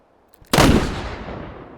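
A single loud rifle shot in the video game H3VR, fired at a melon target 600 meters away, bursting sharply and then rolling off in a long, fading echo.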